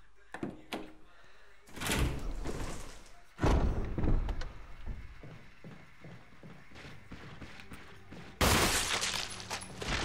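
Shotgun blasts in Resident Evil HD: a few loud, sharp bangs spaced seconds apart, each with a booming tail, among quieter in-game footsteps and clatter, with talk at times.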